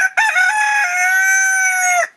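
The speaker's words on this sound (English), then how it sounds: "obviously he's confident enough to crow on the ground at the moment" A single long Silkie cockerel crow from the ground, loud and close, rising sharply then holding a bright, strained tone for about two seconds before cutting off.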